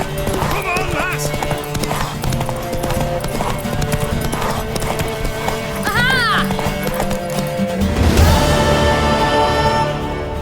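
Galloping hooves of a mare in The Witcher 3 video game, a rapid rhythmic clip-clop under urgent spoken encouragement and game music, with a whinny partway through and the pace building toward the end.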